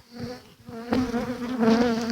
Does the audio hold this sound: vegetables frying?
no